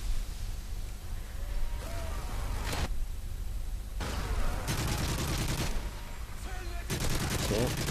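Gunfire in Call of Duty: Modern Warfare 3 Survival Mode. Dense bursts of rapid automatic fire alternate with brief lulls, and a player's voice is heard faintly among the shots.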